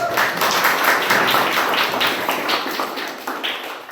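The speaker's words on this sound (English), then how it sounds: "Can we have another huge round of applause for our Toastmaster today?" Audience applause for the Toastmaster at a Daffodils Toastmasters Club meeting, a steady burst of many hands clapping close by that slowly tapers off.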